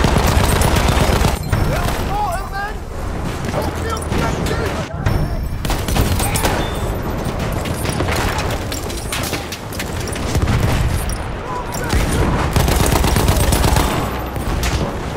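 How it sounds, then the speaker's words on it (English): Machine gun fire in the video game Battlefield 1, a loud continuous crackle of rapid bursts with booming impacts throughout a chaotic battle, voices shouting over the din. "Enemy machine gun over there!"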